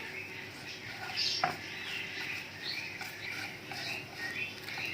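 Scrambled egg being broken up into small pieces with a spoon in a pan with ghee, giving soft continuous scraping and stirring with light clinks and a faint sizzle, close and moderately quiet with no talk.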